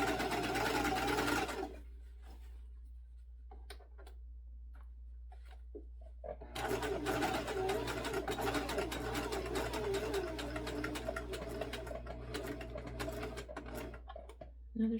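Jiasew sewing machine stitching a European hem on jean fabric, running in steady rapid bursts up close, with a brief pause of mechanical clicks before a long continuous run.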